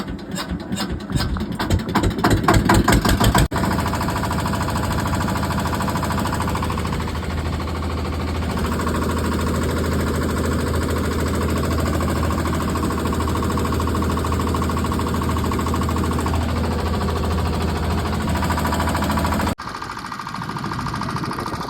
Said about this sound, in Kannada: ಇಗ್ನಿಷನ್ ಆನ್ ಆಕೈತಿ, ಈಗ ಇಂಜಿನ್ ಸ್ಟಾರ್ಟಿಂಗ್.